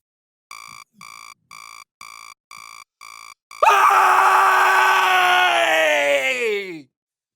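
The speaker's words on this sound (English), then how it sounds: "when I wake up in the morning, I have a habit of screaming before I do anything else" A person lets out a long, loud morning scream that starts abruptly, holds strong, then fades out, after a run of six short, evenly spaced tonal beeps.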